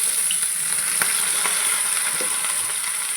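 Mustard seeds sizzle steadily in hot oil in a pan for a Malayalam koorka thoran, a loud, close frying hiss with a few small pops and crackles, no talking.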